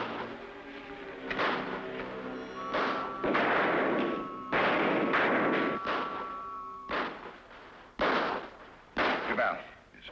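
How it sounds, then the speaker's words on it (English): Soldiers fire rifles to give cover near a desert oasis, a run of cracking shots and booming reports in irregular bursts, some overlapping and echoing, moderately loud with brief gaps between volleys. "Tell the men to start firing to cover him."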